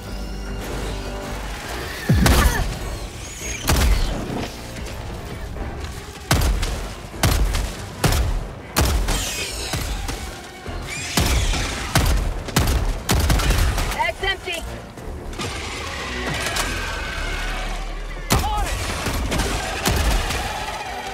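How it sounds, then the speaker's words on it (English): Orbital strike explosions in the shooter video game Helldivers 2: repeated heavy blasts and rolling booms mixed with rapid gunfire, dense and loud throughout, with voices calling out in between. "Calling in orbital strike."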